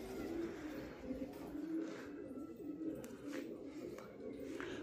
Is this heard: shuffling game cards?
no